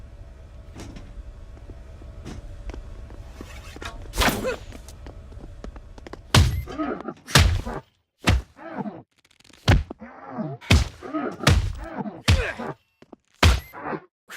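Melee attacks landing in the video game The Culling, a string of sharp thwacks and thuds spaced irregularly, loud and close, following a stretch of steady background hum from the game.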